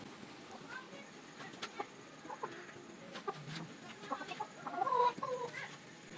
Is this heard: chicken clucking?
yes